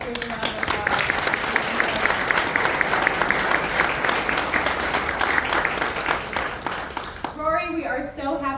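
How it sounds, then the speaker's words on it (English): An audience at a charity reveal event for a kid's Batmobile applauding the volunteers, steady loud clapping with a few whoops, ending with a voice starting to talk as the applause fades. "So everybody please give all of our volunteers a round of applause."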